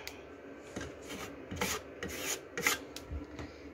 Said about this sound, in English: I'm just going to take a dab of that in the hole. And then scrape it so it's flat.